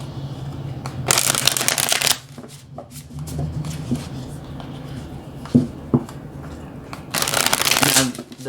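Tarot cards being shuffled by hand in two loud riffling bursts, one early and one near the end, with softer card handling and light taps between; a voice can be heard softly in the background.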